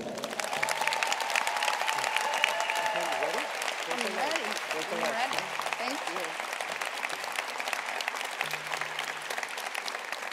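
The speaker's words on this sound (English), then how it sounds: "please join me in a round of applause for Dr." Sustained applause from a large audience at a university undergraduate graduation ceremony, steady dense clapping filling the hall throughout with a few voices and cheers mixed in.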